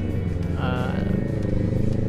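A motorcycle passes on a street in Parañaque, a brief low engine rumble under a person talking nearby.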